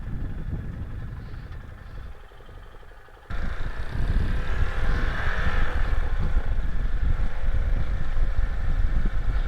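A 2024 Tekken 250 motorcycle on a test ride, its engine humming low and steady, then wind and road noise jump up sharply as it turns and pulls away, continuous and close.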